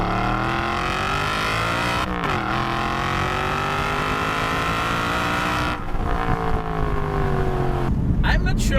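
An Aston Martin V8 Vantage engine revs hard and loud, its pitch climbing through long pulls with brief drops at gear changes, close and dominant, with a voice faintly present.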